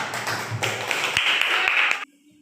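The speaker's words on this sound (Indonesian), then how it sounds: "Tepuk tangan Yasti dulu." A classroom of students claps for a classmate, a brief burst of dense clapping and taps that stops abruptly after about two seconds, leaving near silence.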